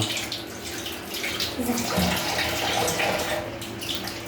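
Potatoes are washed under running tap water while preparing French fries. The water gives a continuous, fairly loud splashing rush that stays steady throughout.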